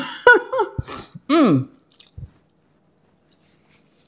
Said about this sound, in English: The cheese is crispy and crunchy.